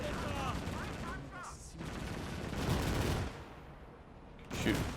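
Gunfire in a WWII real-time strategy game set on the Eastern Front, Call to Arms: dense bursts of rifle and machine-gun fire roll on throughout, loud and busy, with brief gaps, and a voice speaks over the battle noise.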